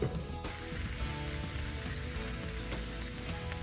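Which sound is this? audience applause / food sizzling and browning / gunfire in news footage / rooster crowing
food sizzling and browning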